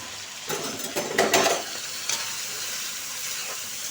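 Two medium chopped tomatoes cooking in a pan with ginger garlic paste give a steady hiss and sizzle, swelling briefly with a few louder bursts of spluttering before settling into an even simmering hiss, close and without speech.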